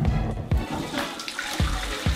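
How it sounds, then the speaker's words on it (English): Toilet flushing in a bathroom, with steady rushing water and gurgling close by, plus a few soft knocks. "Every time I flush"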